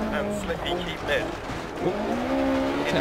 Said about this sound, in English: you may notice I let it bang off the limiter a little bit